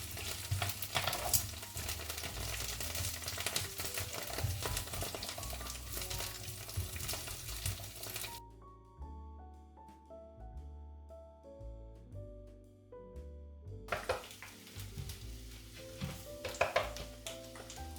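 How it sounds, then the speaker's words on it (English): Asparagus sizzles steadily in a pan over medium heat, a continuous close frying hiss that briefly drops away mid-clip while a tonal musical passage plays, then returns with scattered clinks. "It should be sizzling, but not on a too high heat."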